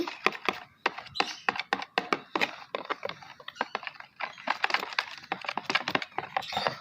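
A container of homemade slime is stirred nearby, making quick irregular clicks, squelches and taps in busy bursts.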